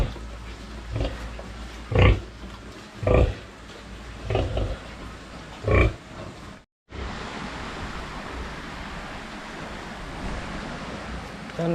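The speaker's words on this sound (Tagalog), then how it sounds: "Tignan natin guys yung mga baboy." Pigs kept on a rural Philippine farm grunt and oink in several loud bursts over a steady outdoor rush of wind or noise, then the snorts fade leaving only the constant background hiss.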